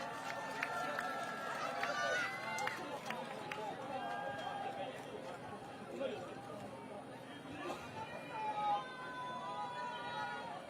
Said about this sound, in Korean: 다시 한번 민주당 중앙선대위 유세단에게 큰 박수 부탁드리겠습니다